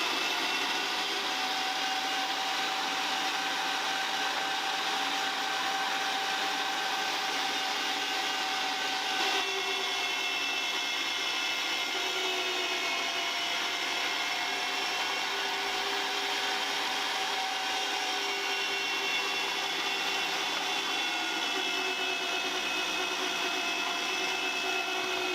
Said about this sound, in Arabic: بدنا نطحنهم على الماكينة حتى نعمل الكبة المسلوقة